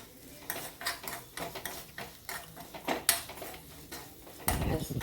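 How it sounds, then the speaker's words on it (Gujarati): Peanuts and chickpeas being sautéed in a pan for a pickle, a spoon repeatedly scraping and clanking against the metal in an uneven rhythm, close and moderate in level, ending in a louder rattle, with no talking. "લગભગ 2-3 મિનિટ આને સાંતળવાનું છે."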